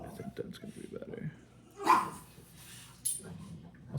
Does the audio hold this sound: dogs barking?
yes